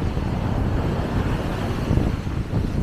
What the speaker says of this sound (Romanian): Bate foarte, foarte tare vântul.